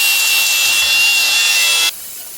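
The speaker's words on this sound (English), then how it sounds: "I just go in from the inside now, nice and safe, and I can sharpen all the blades" The blades of a shear grab are being sharpened with a power tool, giving a loud, steady, high-pitched grinding rasp that runs continuously for about two seconds and then cuts off abruptly.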